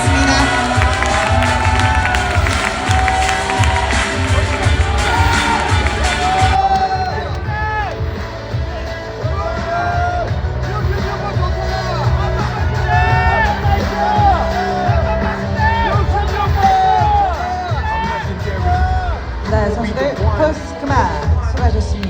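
An audience at a bodybuilding competition cheers, whoops and shouts loudly and continuously. A bright burst of noise at the start settles into sustained crowd roar, with an announcer's voice over it.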